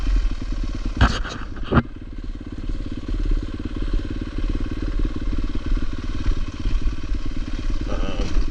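A Yamaha YZ250FX dirt bike engine runs nearby with a steady throbbing drone, broken by a couple of sharp clattering knocks early on. The throttle rises and falls slightly throughout.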